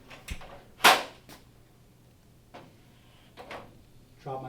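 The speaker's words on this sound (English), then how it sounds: "Drop my bottom pin into place" Metal hinge pins drop into place on a server cabinet's dual pivoting door: a sharp metallic clack stands out amid several lighter knocks and taps spread across a few seconds, set against a low steady hum.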